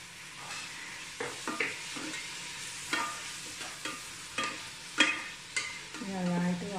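Sliced onions with salt fry in a pan while a utensil stirs them, producing soft scraping strokes at a regular pace over a quiet sizzle, with a clink near the end.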